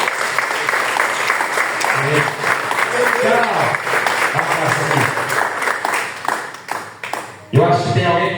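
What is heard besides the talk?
congregation applauding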